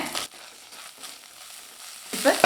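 Onions with ginger-garlic paste sizzle in a hot pan, a soft continuous frying hiss punctuated by louder bursts of stirring at the start and end, alone without talk.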